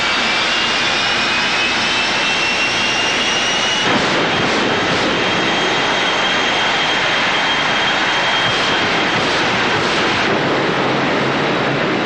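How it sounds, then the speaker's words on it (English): A jet dragster or funny car engine roars continuously at full blast at a drag racing show, a loud, harsh rushing howl with a faint high whine running through it, no voices. "there's nothing that compares to the thunder and lightning of jet cars in action"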